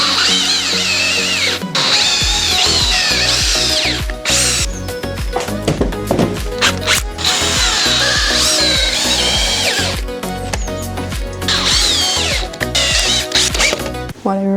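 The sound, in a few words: power drill driving long screws to assemble wooden compost bin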